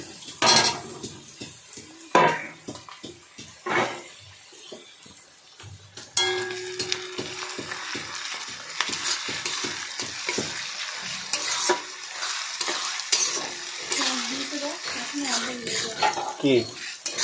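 Garlic fries and is stirred in a pan, with a steady sizzle that begins abruptly partway through, after several sharp knocks and scrapes of a utensil against the pan.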